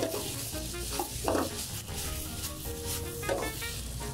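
Bacon, spinach and garlic butter soy pasta sizzles in a single frying pan as it is stirred, with a continuous hiss broken by scraping and small clanks, close and without talk.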